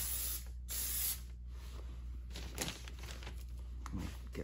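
Aerosol spray paint hisses in several bursts while car emblems are coated black, with short pauses and faint crinkling between sprays, close to the microphone.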